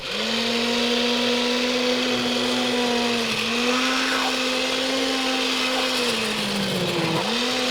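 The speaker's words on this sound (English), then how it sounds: "This is an immersion blender" An immersion blender runs continuously while preparing a beef short rib dish, a loud steady motor whine whose pitch wavers slightly and dips briefly near the end as it works through the food.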